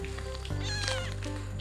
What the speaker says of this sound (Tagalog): may napulot nga pala aming pusa oh